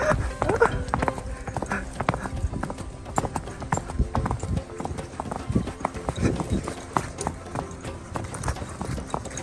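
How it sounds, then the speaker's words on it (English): Horse hooves clip-clop steadily at close range during a horse ride at Ogba Zoo in Benin City, a brisk continuous rhythm on the ground with people talking over it. "Have you ever been on a galloping horse before?"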